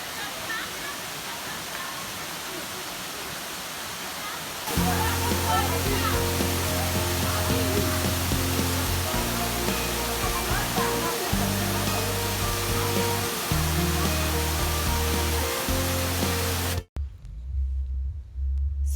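A waterfall on a nature walk rushes with a loud, steady roar that fills the whole stretch. Music swells over the roar partway through, and the sound cuts off abruptly near the end.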